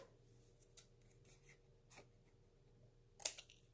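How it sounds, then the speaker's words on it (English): Scissors snip paper while a small folio craft is made, a few quiet, sparse cuts and light rustles close by, ending in one sharper snip. "So I'm just going to measure it and snip it with my scissors."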